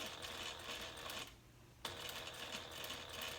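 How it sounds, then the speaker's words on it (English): A sewing machine with a Teflon foot stitching close along the edge of a handbag slip pocket, a fast, steady mechanical whir that pauses briefly midway and then resumes, heard close and fairly quiet. "And now we can just sew."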